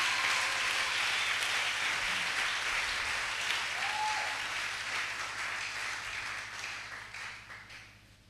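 A church congregation applauds in a dense, sustained wash of clapping that slowly fades toward the end, with no voices over it.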